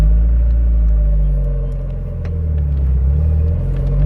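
An NA Mazda Miata pulls away and cruises, giving a steady low engine drone and road rumble heard from inside the car, with a slight dip and rise in level and no talk.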